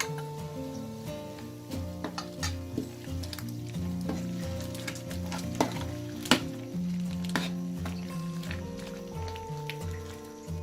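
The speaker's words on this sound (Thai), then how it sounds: "ทีนี้เราก็ใส่พริกแกงลงไปเลยค่ะ และกะปิค่ะ" Curry paste and shrimp paste sizzle and fry steadily in a pot, with stirring clinks and scrapes over a constant close crackle.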